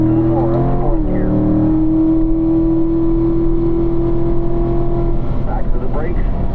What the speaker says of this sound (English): Foot to the floor, up to 4th gear.